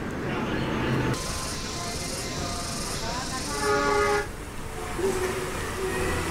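A train pulls into a busy station in Bandung during the holiday return rush, with a steady mechanical rumble, hissing and brief tonal horn toots, and a voice speaking over it.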